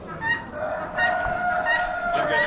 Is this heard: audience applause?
no